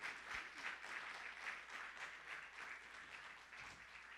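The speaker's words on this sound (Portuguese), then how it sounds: "Dê uma salva de palmas ao Senhor Jesus." A church congregation claps together in a steady, soft wash of many hands, heard from a distance at low volume without any voices.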